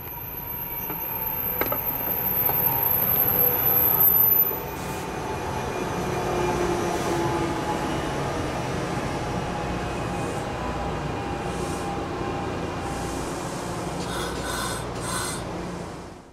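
A New Jersey Transit train on the Morristown Line passes Maplewood Station steadily, a long rolling rumble of rail cars with faint squeals and a high whine fading early on, no speech.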